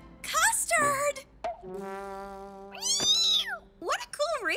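A cartoon cat from Strawberry Shortcake lets out several squeaky, sliding meows with bent pitch, loud and close, one longer steady tone in the middle.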